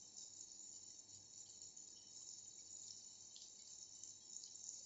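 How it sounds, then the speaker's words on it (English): Hot water poured over abacha, dried shredded cassava for African salad, making a faint, continuous hissing splash that stays even from start to finish, with no voices. "The hot water is ready. I'm going to be adding it into the abacha."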